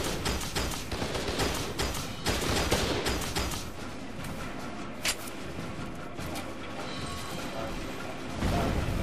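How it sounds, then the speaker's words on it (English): Sustained gunfire exchange in the shooter game F.E.A.R. 2, dense bursts of shots and clattering impacts filling the scene, with a few sharper cracks standing out and a loud surge near the end. "I don't get how you're still shooting me, even though I'm busy shooting the fuck out of you."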